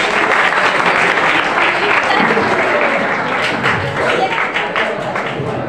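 Loud, dense applause from a school audience fills the hall throughout, steady and close, greeting prize-winning students at an annual school prize distribution ceremony in Kharepat in 2024.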